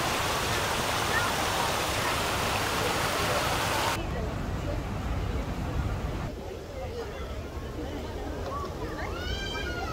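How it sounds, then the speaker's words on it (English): Water fountain show at the Petronas Towers in Kuala Lumpur, a dense steady rush of spraying and splashing water that abruptly drops to a softer wash partway through, with a crowd murmuring and people talking around it. "A lot of people enjoying the water show."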